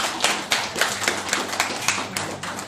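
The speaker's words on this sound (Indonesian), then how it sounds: "aplaus buat bapak-bapak Bu" An audience at an Indonesian testimonial gathering claps for the gentlemen present, a brief, fairly loud round of rhythmic applause with no speech over it.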